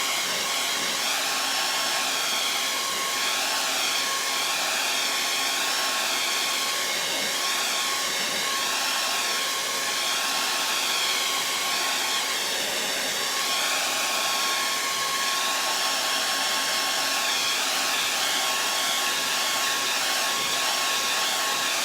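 A hair dryer drying paint on a wooden door hanger blows loud and close as a steady, unbroken whirring roar for over twenty seconds.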